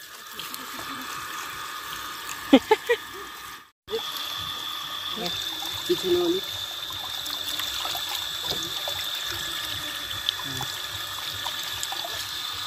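Water runs and splashes steadily, poured for washing momo filling ingredients in a village, with occasional clinks and brief knocks over the flow.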